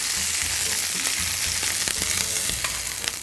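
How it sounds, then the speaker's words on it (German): Lamb loin sears in hot olive oil in a pan, a loud continuous sizzle and crackle with scattered pops and occasional scraping as the meat is moved. "Die Lammlachse werden von beiden Seiten 1 Minute lang scharf angebraten."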